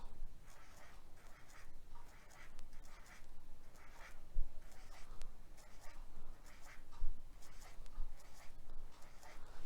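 Pen or marker scratching steadily across a board or paper as a metallurgy instructor draws a diagram during a lesson, a soft, close, continuous rustle with a few light taps and no talk.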